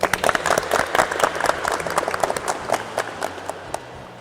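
A classroom of students claps for fellow student groups after a vocational automotive lesson, a burst of uneven hand claps that is strongest at the start and thins out toward the end.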